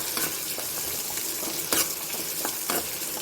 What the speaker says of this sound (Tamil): கடுகு, சீரகம், சின்ன வெங்காயம், காஞ்ச மிளகா, பூண்டு தட்டி போட்டிருக்கேன். இது கொஞ்சம் நல்லா வதங்கணும்.